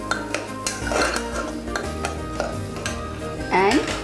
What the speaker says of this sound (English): now we add in the peas. Just stir it nicely.